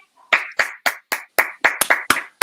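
About ten sharp, separate hand claps in an uneven rhythm, close and clear against near silence, with no talking.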